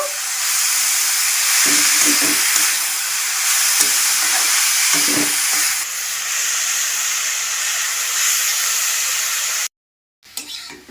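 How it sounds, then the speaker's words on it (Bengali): Beetroot and carrots frying in a pan for vegetable chops, a steady close hiss and sizzle with a few soft stirring knocks, cutting out briefly near the end. "এদিকে বিট গাজরগুলো ভাজা হবে"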